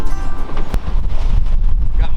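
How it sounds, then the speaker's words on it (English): Strong gusting wind buffets the microphone on an exposed point jutting into a rough lake, a loud continuous low roar with bursts and no pauses; a voice is faintly present beneath it. "Very, very windy."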